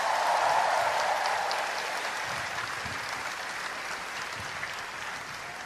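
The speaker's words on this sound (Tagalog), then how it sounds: "pumalakpak ng malakas" A congregation at an El Shaddai Lenten Mass claps, a broad, fairly soft wash of many hands that starts a little stronger and settles into a steady, even patter.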